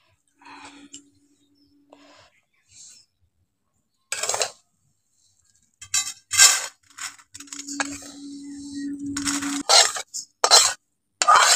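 A metal pan of fried vermicelli for a homemade crispy sweet is lifted off the stove, with scattered clanks and scraping bursts of metal against metal over a faint steady hum, no voices.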